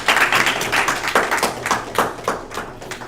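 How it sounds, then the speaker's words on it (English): A small audience claps for a speaker after a talk on neural networks, the claps arriving in a close, fairly rhythmic run of bright bursts that stays loud and steady throughout. "So if we could get a round of applause for our speaker."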